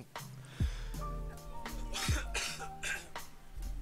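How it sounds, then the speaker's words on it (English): A man coughs and clears his throat several times in a row, harsh and close, with short bursts spaced through a few seconds in a quiet room. "Can't clear my throat this morning"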